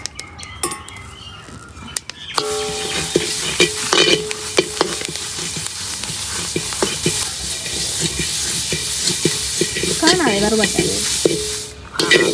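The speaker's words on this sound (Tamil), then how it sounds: "இது கருவேப்பிலையே வறுப்போம்" Curry leaves roasting in a pan while making Jaffna-style curry powder: crackling sizzle and scraping stirs with clinks of a spoon against metal, rising steadily louder, with a brief voice near the end.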